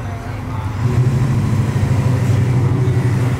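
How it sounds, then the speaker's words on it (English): A BMW E39 M5 engine roars loudly and steadily during a burnout, a deep sustained drone that swells after the first second and holds, with people talking faintly underneath. "so we're about to do a burnout on the M5 on AJ's car."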